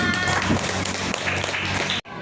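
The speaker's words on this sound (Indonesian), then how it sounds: "Oke, tepuk tangan." A school class claps hands together in a dense, continuous burst that lasts about two seconds, with some voices mixed in, and then stops abruptly.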